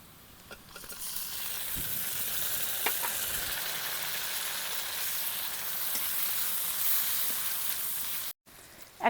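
Sliced tomatoes hit a hot kadai already seasoned with coriander powder while a Bengali prawn and taro-stolon curry is cooked. A loud, steady sizzle runs throughout with faint stirring clicks, then briefly cuts out near the end.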